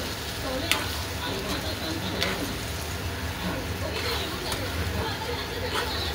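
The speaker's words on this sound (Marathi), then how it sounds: "आता वांग्यात सगळा कूट टाकून घेऊया परत हलवून घेऊया" Brinjal stirred in a pan with crushed peanut powder, a soft, continuous sizzle with scattered scraping taps of the spoon, faint and close, with low voices in the background.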